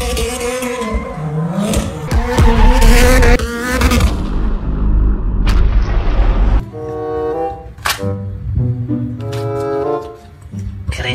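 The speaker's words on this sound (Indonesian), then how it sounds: "Mobil balap." A race car engine roars up through revving gears with sharp tire squeals, followed by a series of shorter toy-like car sound effects with tonal engine whines and skids, loud and close.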